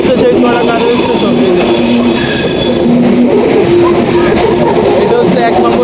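A Mahananda local train on the Khulna–Chuadanga line rolls into Chuadanga railway station and slows to a stop, with a loud, steady rumble, squealing wheels and voices in the background.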